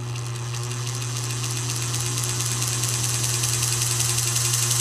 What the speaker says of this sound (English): We're going to try to run on half the motor.